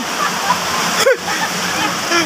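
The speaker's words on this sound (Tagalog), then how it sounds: "Ang lakas ng alon." Typhoon floodwater surging in big waves, a continuous rushing, splashing wash with a brief louder slosh midway, while a voice talks over it.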